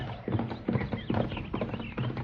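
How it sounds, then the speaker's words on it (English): Two saddle horses ride hard down a trail in an old-time Western radio drama, hooves clip-clopping in a quick, even rhythm of repeated beats, moderately close, with no talk over them. "Yeah, 2 saddle horses riding hard this way."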